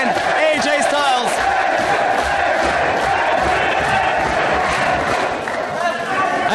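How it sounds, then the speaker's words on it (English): A dense wrestling crowd in Dublin roars and cheers for AJ Styles during his match against Chris Daniels at an Irish Whip Wrestling show, with loud, sustained cheering, whoops and shouts that fill the whole span. "This crowd is absolutely on fire"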